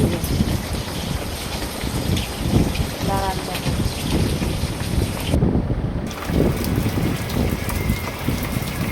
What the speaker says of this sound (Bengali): খুব বৃষ্টি করছে প্রচুর বৃষ্টি হচ্ছে বাইরে